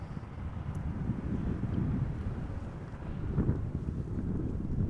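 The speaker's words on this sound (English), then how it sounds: "The wind is coming from that direction." Wind rushes across the microphone at Amsterdam Schiphol Airport, a steady low buffeting roar that swells and eases over a few seconds, with no voices.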